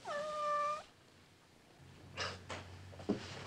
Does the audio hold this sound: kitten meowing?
yes